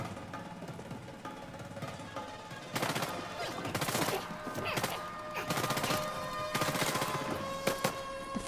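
Gunfire in the action video game Uncharted 4: rapid automatic bursts of shots break out midway and continue in loud clustered volleys over a low background hum.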